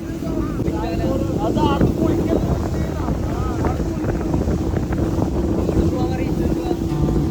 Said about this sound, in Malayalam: ഇപ്പൊ ഒരു ബോട്ടുമായിട്ട് കടലിലേക്കാ പോയിക്കൊണ്ടിരിക്കുന്നത്.